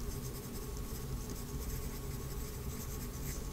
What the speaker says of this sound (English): Write my name on that paper.